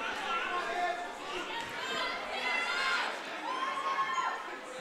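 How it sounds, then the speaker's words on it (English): Crowd noise at a high school girls basketball playoff game in a gym, steady chatter and shouting with bursts of cheering, fairly distant and continuous throughout. "Crowd is live here tonight at East Longmeadow High School."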